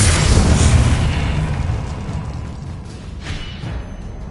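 A Confringo fire-blast spell cast in the video game Hogwarts Legacy during a duel: a loud, close explosive boom with a deep rumble that slowly decays, followed by a smaller burst.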